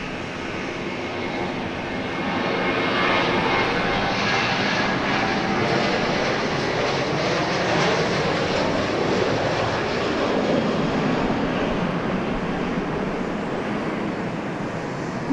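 Airliner taking off from Dallas Love Field, rotating close by: a loud, sustained jet engine roar that swells after the first couple of seconds and holds steady throughout, with no voices.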